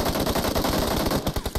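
Rapid automatic gunfire from a match of the mobile game PUBG Mobile rattles in a dense, loud burst of closely spaced shots, the final rounds standing out as separate cracks.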